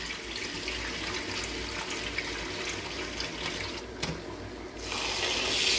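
Tap water runs steadily into a bowl of rice being washed for biryani, a continuous splashing rush that swells louder toward the end.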